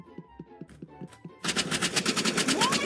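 Uzi fire in a Roblox gun game: a few short separated shots, then a loud sustained rapid burst of automatic fire with steady rhythmic reports, close and dominant, with no talk.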